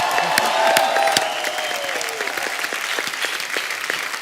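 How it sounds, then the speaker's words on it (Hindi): Studio audience at a television comedy show applauding loudly for a film announcement, dense clapping with light cheering that starts strong and gradually thins out. "जोरदार तालियां।"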